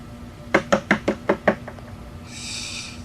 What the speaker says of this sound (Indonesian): aku pun keluar kamar dan mengetuk pintu kamar nomor 6 itu.